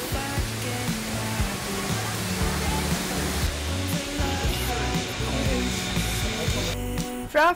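Shifen Waterfall in Taiwan gives a steady, dense broadband roar of falling water that holds evenly throughout, with a brief louder rush and clatter right at the end.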